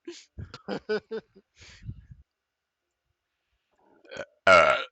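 A person lets out a loud, close belch at the end, after a few quick spoken words and a short pause.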